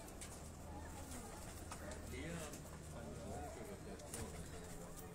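Tar-breed pigeons are let go from a rooftop in Johar Town, Lahore, with faint cooing and wing sounds set against constant outdoor hum and low chatter nearby.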